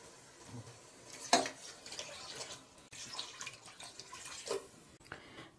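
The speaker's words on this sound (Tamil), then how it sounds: "அதுக்கு வந்து 2 கப் தண்ணி ஆட் பண்ண போகிறோம்மா" Two cups of water splash and pour steadily into a pot for mutton biryani, with a sharper splash early on and faint clinks in a quiet room.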